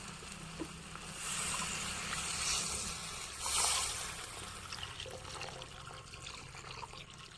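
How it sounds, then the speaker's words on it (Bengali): Water is poured into fried mustard masala in a cooking pot, a soft continuous gush and splash that swells briefly in the middle, with no talking. "এর মধ্যে পরিমাণ মতো জলটা দিয়ে দেবো।"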